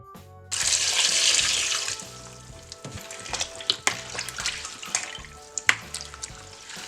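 Water poured into a clean pail with peppermint, lemons and citric acid for homemade syrup, a steady rushing pour for about a second and a half, then sloshing and splashing with sharp knocks and clatters.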